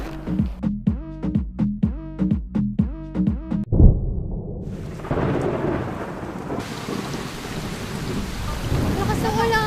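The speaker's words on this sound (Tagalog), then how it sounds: "Lakas ng ulan!" Heavy rain pours steadily after a burst of rhythmic thumping, with a deep rumble of thunder and dense hissing downpour filling the rest.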